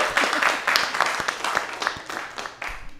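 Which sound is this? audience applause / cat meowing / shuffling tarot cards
audience applause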